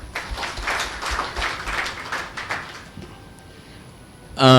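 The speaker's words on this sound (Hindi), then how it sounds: "तो एक बार चंदन जी के लिए तालियां" A short burst of audience clapping at a seminar rises and then thins out over a few seconds, ending with a sudden loud noise at the close.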